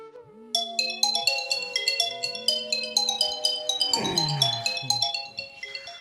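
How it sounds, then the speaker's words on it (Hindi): A phone rings with an incoming call late at night, its bright, melodic ringtone repeating in a quick run of chiming tones, loud and close with no talk. "अरे यार, इतनी रात को कॉल कौन कर रहा है?"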